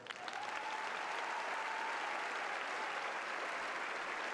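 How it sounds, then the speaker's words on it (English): A graduation audience applauds faculty and staff at a Tuscaloosa County High School ceremony, producing steady, dense, sustained clapping from a large crowd that fills the hall for several seconds. "The faculty and staff, please, one more round of applause"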